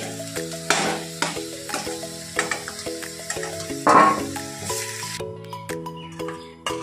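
Drumstick stalks being stirred in hot oil in a pan after the potatoes are removed, with soft scraping stir strokes over a steady frying sizzle and faint background music, no talking.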